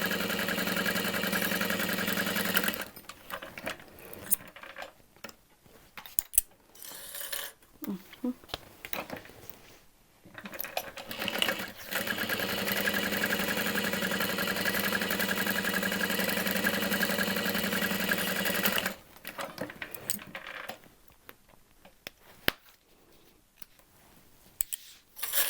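A sewing machine top-stitches the bottom panel of a fabric handbag in long, steady, whirring runs separated by pauses filled with fabric handling and talk.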